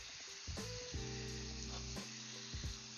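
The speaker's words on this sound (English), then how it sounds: "And then we start sauteing the meat." Meat sizzling as it sautés in a frying pan for a beef and mushroom Alfredo, a steady close frying hiss with a few louder stirring bursts, no talk.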